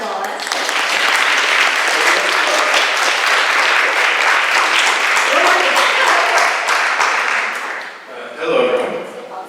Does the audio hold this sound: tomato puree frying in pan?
no